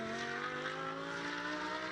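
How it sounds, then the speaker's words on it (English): Lamborghini Super Trofeo race car with a multi-point fuel-injected V10, restarted on track at Circuit of The Americas, holding a loud steady drone with strong harmonic tones, no talk. "He's got the engine refired."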